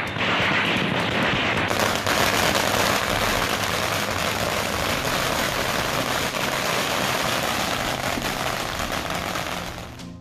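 Firecrackers burst continuously at a festive celebration in Tamil Nadu, a dense, loud crackling barrage that keeps going without a break for about ten seconds before easing off slightly at the end.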